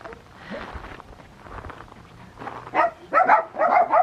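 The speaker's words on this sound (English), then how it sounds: "sorry for the dogs barking" Several dogs bark outdoors near a garden by a shop, a burst of loud repeated barks in the final second and a half after quieter rustling and movement.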